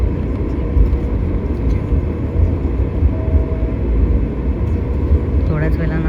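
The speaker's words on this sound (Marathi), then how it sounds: "तर आता विमान चालू झालं आहे." Airliner engines running before a Mumbai to Srinagar flight, a steady low cabin drone and hum heard from inside the aircraft, constant in level, with a brief higher tone near the end.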